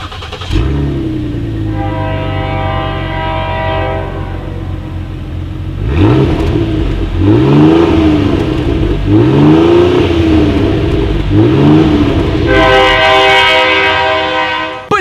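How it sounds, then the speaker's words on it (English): A 2019 Ford Explorer with dual exhaust and quad tips idles with a steady droning note, then is revved several times in rising and falling swells. It is loud and close, with no talk. "As always, here is that exhaust clip."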